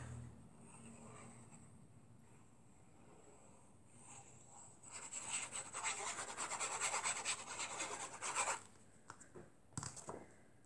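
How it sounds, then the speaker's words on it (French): Paper being glued and rubbed down by hand while assembling a large envelope, a dry scraping and rasping that grows louder midway, continuous friction strokes close to the microphone with no talking. "Je colle."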